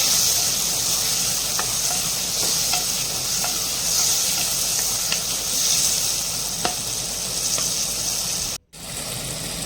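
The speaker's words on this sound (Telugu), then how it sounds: "కొంచెం సేపు బాగా ఫ్రై అయ్యేంత వరకు మనం ఫ్రై చేసుకున్నాము." Ingredients for a banana flower curry fry in a pan with a steady, close sizzle, broken by faint stirring clicks and a brief drop out near the end.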